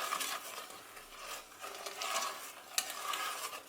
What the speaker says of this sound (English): One tip with stirring things that are being heated